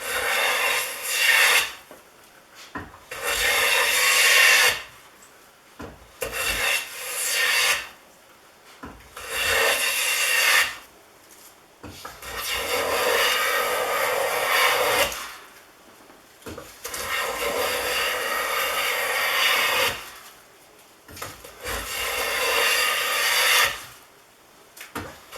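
A Stanley Bed Rock 607 jointer plane takes long strokes along a 2 3/8 inch wide piece of cherry, giving a series of about eight rasping shaving passes with short pauses between them, close and alone.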